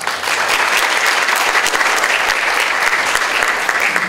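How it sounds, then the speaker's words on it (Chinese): An auditorium audience claps steadily for a visiting professor at a university lecture, a dense, sustained wash of applause holding at an even loudness throughout with no talk over it. "请先给他掌声"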